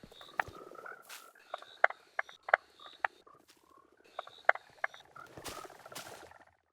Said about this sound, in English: This is a striped marsh frog.